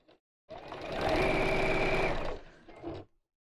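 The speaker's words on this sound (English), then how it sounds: "just sewing all the way around the top" A sewing machine runs steadily for about two seconds while stitching around the top of a sewn piece, a close, loud mechanical whir that rises and then slows, with brief handling sounds at the end.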